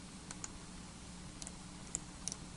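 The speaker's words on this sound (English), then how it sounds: "right mouse click, paste" Several faint computer mouse clicks, spaced irregularly over a quiet room hum while copying and pasting a light equipment item between electrical one-line diagram drawings.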